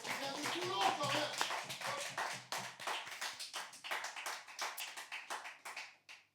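An audience at a slam poetry show in Toulon claps and cheers, dense applause at first that thins into scattered, separate claps before fading out near the end.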